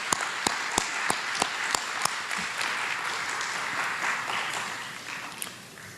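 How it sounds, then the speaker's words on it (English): An audience at a DC summer youth employment program kick-off starts with a few loud, separate handclaps that swell into steady indoor applause and then taper off. "So give yourself a hand clap."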